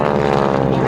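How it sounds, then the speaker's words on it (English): Propeller aircraft engines at an air show in Goldsboro, North Carolina, a steady loud droning hum with no break across the whole second. "Listen to the sound of the engines"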